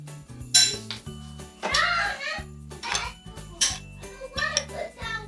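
Salad is tossed in a bowl, with utensils clinking and scraping against the dish in uneven bursts, up close, with a voice briefly in between.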